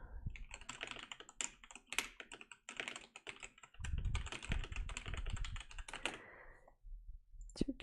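Fingers type on a computer keyboard in quick, uneven bursts of close clicking keystrokes with short pauses between runs, and no voice is heard.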